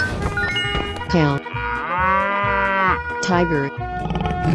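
A cartoonish cow in a 3D animal slide game lets out one long, loud, close moo lasting about two seconds, framed by brief lively game sounds before and after.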